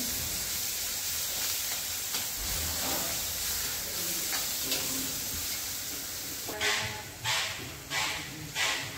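Chili-garlic paste and onions are sautéed in a pan for a spicy drumstick-leaf dish, a soft steady sizzle with occasional stirring, ending in a few louder scraping strokes of a spoon against the pan.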